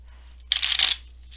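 Tarot cards are shuffled in one brief, crisp riffle that rises sharply and fades within half a second, close and alone against a quiet background.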